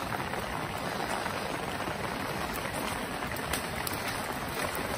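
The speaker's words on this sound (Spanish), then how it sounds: "Si escuchamos el sonido de la lluvia golpear contra el concreto, no tenemos que verla o sentirla para saber que es lluvia." Steady, dense rain falls on concrete, a constant broadband hiss with faint scattered drop ticks, no voices present.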